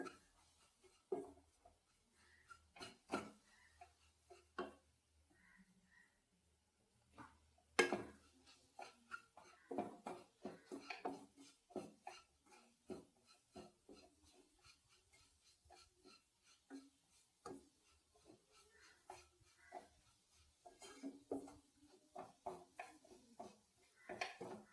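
Stirring a laddu mixture of Amrutham powder in a pan: irregular scraping and clinking of a spoon against metal, close and fairly quiet, in bursts with brief pauses.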